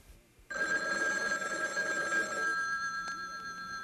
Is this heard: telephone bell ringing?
yes